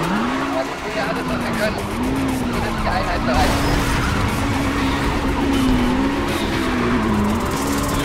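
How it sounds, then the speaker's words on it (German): A car drifts in Need for Speed Undercover as its tires skid: a sustained, wavering squeal over a loud engine roar and road noise. It stays steady and close for several seconds. "Kleine Drift-Einlage noch."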